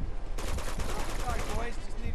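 Close-range gunfire in Uncharted 2 on PS4: a loud burst of rapid, repeated shots lasting over a second and a half, rattling like automatic fire over a dense game soundscape.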